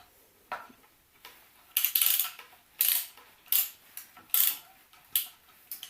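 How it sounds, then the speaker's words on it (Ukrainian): Bolts are turned with a ratcheting tool, giving a series of loud, close metallic clicking and rasping bursts in an irregular rhythm, separated by short pauses. "Ну, крутяться болти."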